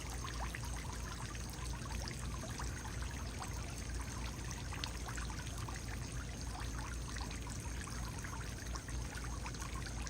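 A garden pond waterfall fed by a floating fountain pump splashes at night in a steady, unbroken rush of falling water, close and continuous with no other sounds.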